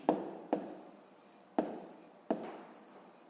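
Pen scratching on paper while numbers are written out for a fifth-grade maths exercise: four quick scratchy strokes, each a sharp start trailing into a softer scribble, close and clear with no talking.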